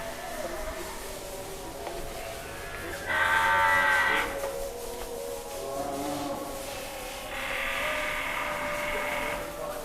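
Bali cattle lowing at a large farm, two drawn-out moos in turn, each about a second long, fairly close and clear over a steady background hum of the barn.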